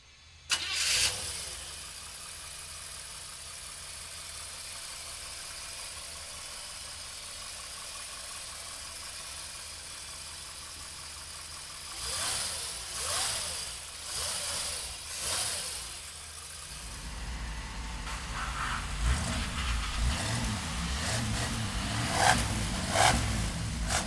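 A 1958 Chevrolet Impala engine cranks and fires, settles into a steady idle, then revs up in several swelling bursts before running louder and rougher near the end, close and with no talk.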